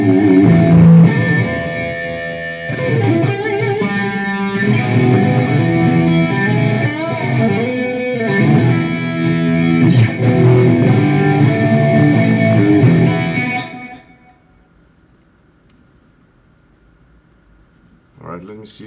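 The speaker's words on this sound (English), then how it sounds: "Sound with echo. That could be coming out from the" Electric guitar played through an echo effect preset during a live stream, loud and distorted with repeating trails, ringing for most of the stretch before cutting off to near silence.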